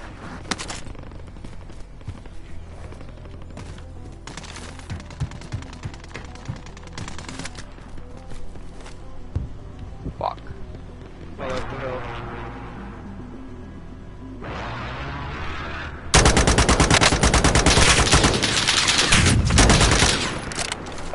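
Assault rifle fire in the video game Warzone, with dense rapid bursts of shots across the whole clip, loud and close, swelling into a heavier continuous barrage near the end.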